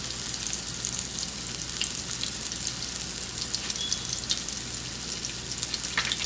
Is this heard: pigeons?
no